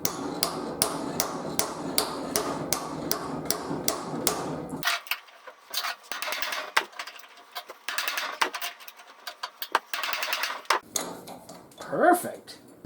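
Steel patch plate for a torn mower deck, clamped in a vise and bent over, produces a run of sharp metallic hammer strikes at a steady rhythm. Scattered clanks and shop noise follow, with a voice briefly heard near the end.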